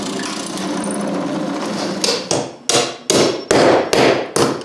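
After a stretch of rushing noise, a hammer pounds carriage bolts into wood in a series of sharp, heavy blows, about six evenly spaced hits, close up.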